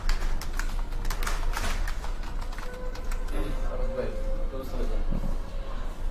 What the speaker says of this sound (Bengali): এখন আমরা এইটার মাঝখানে আবার ইংরেজি টাইপ করব